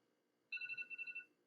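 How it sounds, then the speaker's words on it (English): A mobile phone rings nearby with a bright, steady electronic tone that pulses in a quick series of beats, loud against an otherwise quiet room. "sorry, that's my phone."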